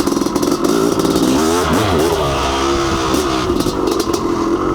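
Honda CR500 two-stroke enduro motorcycle ridden on muddy single track, its big engine loud and close, revving up and down in steady pulses with clatter from the bike over the rough trail.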